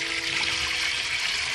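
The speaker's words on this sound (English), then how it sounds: "time to put this water in" Water pours steadily into a catfish aquarium tank being set up for a baby bullhead, a continuous close splashing and trickling rush with no talking.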